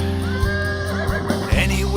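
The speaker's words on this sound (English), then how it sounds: "Unless you count Bucephalus, but he's a horse." A horse whinnies in a comedy song sketch, a brief rising and falling neigh cutting through continuous backing music with singing.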